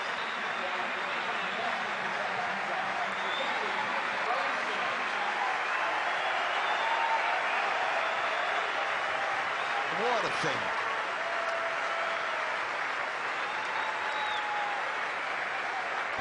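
Sydney cricket crowd applauding South African batsman Graeme Smith as he comes out to bat with a broken right hand, a long, steady wash of stadium clapping and cheering under a commentator's voice.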